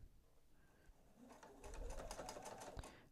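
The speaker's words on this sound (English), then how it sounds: "I'm going to sew around." A sewing machine stitching a quilted microwave bowl cozy starts up partway through, its needle running in a fast, steady rhythmic chatter close by, with faint background sounds before it begins.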